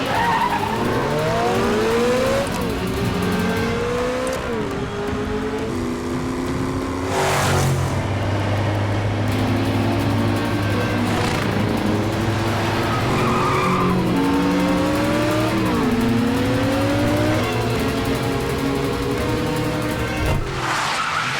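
An action-movie car chase: engines rev and shift through rising gears while tires squeal in long skids, with a loud crash-like burst midway and another at the end, dense and continuous throughout without speech.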